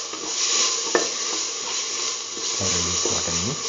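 Shallots are stirred with a ground beetroot mixture in a hot pan, giving a steady sizzle under intermittent scraping and stirring strokes, with a brief tonal squeak near the end.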